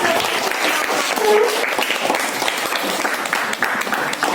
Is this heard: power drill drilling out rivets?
no